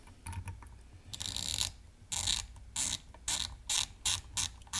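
A hand ratchet tightens fasteners on the cover of a diesel FICM power supply, giving close, crisp bursts of clicking in an uneven rhythm of short and longer strokes, with no talking.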